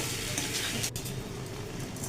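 Shrimp and taro stolons (kochu loti) sizzle steadily in a hot pan, a dense continuous frying hiss with faint stirring scrapes, close and without talk.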